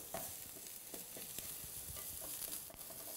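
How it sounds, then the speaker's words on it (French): A shallot sweating gently in a pan without browning, a soft steady sizzle with faint irregular ticks and stirring scrapes, quiet and close. "Donc là, juste suer, juste la faire transpirer, cette échalote, sans la colorer"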